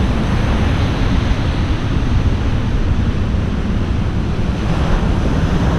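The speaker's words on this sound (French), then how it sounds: "L'océan Atlantique. Avec des grosses vagues." Big Atlantic Ocean waves roll onto a beach in Brazil, a continuous loud wash of surf with steady rumbling low end and wind buffeting the microphone throughout, no voices.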